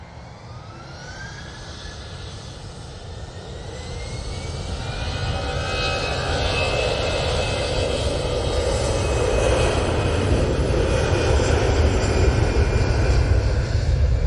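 A jet airliner takes off from Manchester Airport bound for Geneva, its engine roar swelling steadily from moderate to loud and sustained, with a rising whine running through the noise and no voices.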